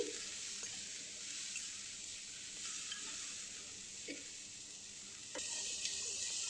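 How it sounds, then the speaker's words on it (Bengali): Half a tomato is stirred and fried in a pan, giving a soft, steady sizzle with occasional quiet scrapes of a spatula; faint and close, with no voices. "সেটাকে দিয়েও ভালোভাবে একটু নাড়িয়ে ভেজে নিচ্ছি"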